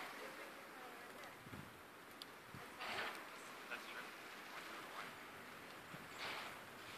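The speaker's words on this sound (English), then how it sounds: "And it's very windy." Steady wind roars and gusts across an open snowy spot on a cold, clear January day after a winter storm, a continuous rushing wash with a few stronger buffets, no talking heard.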